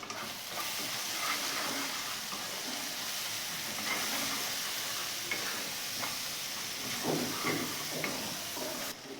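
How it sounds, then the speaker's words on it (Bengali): Ground cumin, turmeric and chilli powder sizzle and fry steadily in hot oil in a pan with salt, with soft stirring scrapes and small crackles running throughout, close and moderately loud with no talking. "এই মশলাটা ভালো করে কষবো।"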